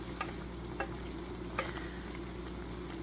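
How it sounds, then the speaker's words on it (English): Thit kho, Vietnamese braised pork, simmers in a pot and is stirred, giving a steady low bubbling and sizzling bed. Occasional faint clicks of a utensil against the pot sound a few times over it, with no talking. "Let's go ahead and stir this up a bit more."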